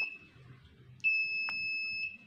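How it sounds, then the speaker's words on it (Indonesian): A JWS digital seven-segment mosque clock sounds its maghrib prayer alarm, a steady high electronic tone after a short chirp, with a brief click partway through, close and loud. "maka dia akan langsung masuk ke alarm sholat maghrib ya"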